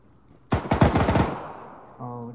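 A rapid burst of roughly seven close, loud gunshots in the military shooter Arma 3, fired in quick succession and trailing off into a short echo, followed by a brief tonal hum.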